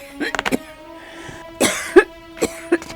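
An elderly woman coughs several times in short, raspy bursts close to the microphone, with brief pauses and quiet throat sounds between them.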